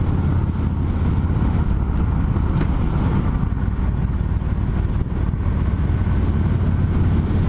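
Engine braking on a 2015 Victory Gunner motorcycle as it downshifts: a loud, continuous low engine drone with wind rush, heard from the rider's position without talk.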